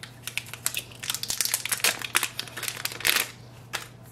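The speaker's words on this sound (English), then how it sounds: "Now take the ink cartridges out of the plastic packaging." Plastic packaging crinkles and crackles in close, irregular bursts as a set of four Epson ink cartridges for an XP-5200 printer is pulled free, with a steady low hum underneath.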